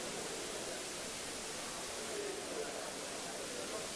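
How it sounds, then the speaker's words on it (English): Radio receiver putting out faint, steady static hiss, a broad even noise that runs unbroken with a tiny click at the very end and no voices. "So we're hearing some static now."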